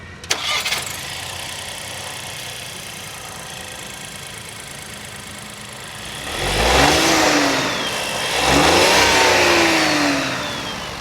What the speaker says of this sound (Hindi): अब क्योंकि ये इंजन 3 सिलेंडर है, एक बार आपको स्टार्ट करके दिखाता हूँ